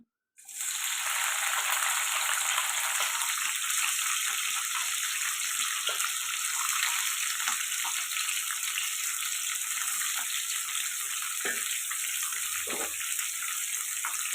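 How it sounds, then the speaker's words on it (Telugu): Pieces of ivy gourd dropped into hot oil set off a loud, steady hiss of frying that runs the whole way through, with a few small pops near the end. "ముందుగా కడిగి పెట్టి కట్ చేసి పెట్టుకున్న ఈ దొండకాయ ముక్కలు అయితే వేసేస్తానండి ఆయిల్లోకి"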